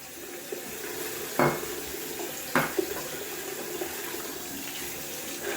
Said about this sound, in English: Just gonna rinse off the bowl, the dish.